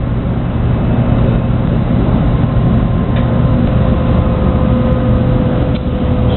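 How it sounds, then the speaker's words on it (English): Steady low rumble of a Shinkansen bullet train decelerating into Shin-Osaka station, recorded between cars, with continuous loud running noise and faint high whines throughout, no talk. "Takes a little while, obviously, to bring the bullet train, the Shinkansen here, to full and complete stop"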